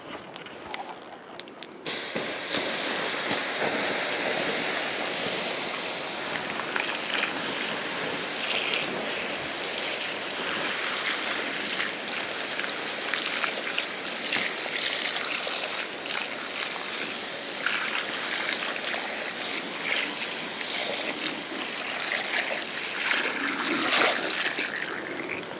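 Steady water flowing and splashing around a back step, a continuous broadband rush that holds at an even level throughout after a short quieter start, with no talking.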